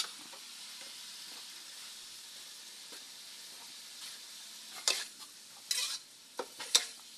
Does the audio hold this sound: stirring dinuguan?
yes